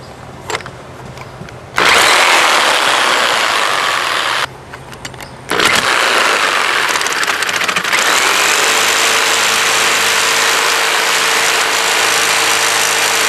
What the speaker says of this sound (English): So first I have to cut through this metal thing right here.